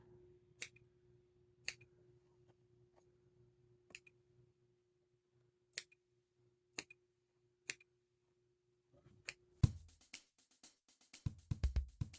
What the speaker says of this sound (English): I will literally just start pulling up with my scissors and just snipping.